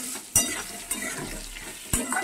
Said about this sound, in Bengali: আর পটলটা কষানো হয়ে গেছে।